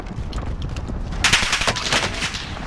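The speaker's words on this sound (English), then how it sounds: "Taking fire!" Rapid automatic gunfire in the Call of Duty: Modern Warfare video game crackles in loud, dense bursts that grow heavier and closer halfway through, with no talking.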